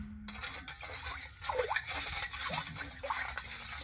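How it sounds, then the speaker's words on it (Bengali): A spoon stirs salt into water in a bowl with soft, close scraping and swishing, plus a few light clinks against the bowl. "তো জলের সাথে লবণটা একটু এইভাবে গুলে নেব"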